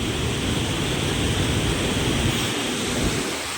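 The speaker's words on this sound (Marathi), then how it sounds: "इथं बघा किती मोठा एकदम आदळू राहिलं पाणी" Heavy floodwater roaring and crashing during a monsoon downpour near Nashik on the Godavari, a dense, steady broadband rush that stays loud and close throughout with no voices.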